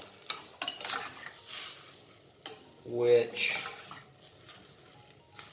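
Fregola ingredients with sun-dried tomato cook in a pan, giving a soft sizzle with spoon scrapes and clinks against the pan and a brief louder burst of frying partway through, while a voice talks intermittently.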